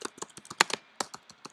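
Computer keyboard keys clack in quick, uneven bursts of about a dozen sharp, close taps, with no other sound between them.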